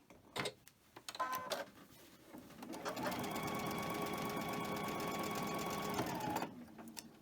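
A sewing machine stitches cotton fabric with pink thread, running in one steady, fast, even burr for about three and a half seconds after a few short starts and handling noises.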